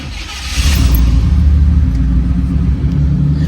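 1986 Chevrolet Camaro IROC-Z with a 5.0 V8 catching on a start and settling into a loud, deep, steady idle rumble close by.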